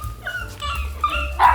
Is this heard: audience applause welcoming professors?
no